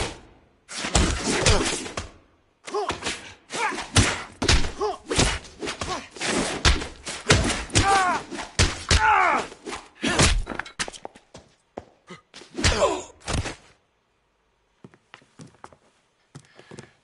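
Fistfight in the video game LA Noire, a rapid series of heavy punches and thuds landing in irregular bursts, with grunts between blows, falling quiet near the end.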